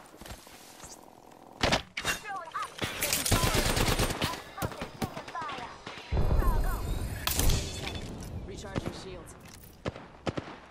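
Apex Legends gunfire: bursts of loud shots and thuds crowd the middle of the stretch, with louder impacts near the end. Game voices and talk run over and between the shooting.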